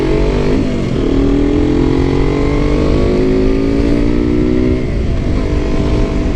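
A KTM RC 125 motorcycle with a Radical Racing exhaust idles and revs close by, its engine note rising and falling in steady loud pulls with no talking.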